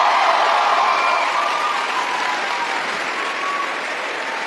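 Loud, steady applause and cheering from a large crowd at a political rally fills the whole stretch without a break, with scattered whoops rising above the clapping.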